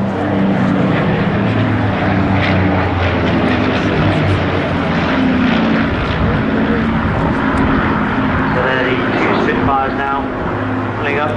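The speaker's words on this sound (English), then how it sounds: "Now we're getting a thrilling display of a pair of Spitfires undergoing their tail" A pair of Spitfire fighter planes flying a tail chase formation at an air show, propeller engines droning loudly and continuously as they pass, with some crowd or background noise mixed in.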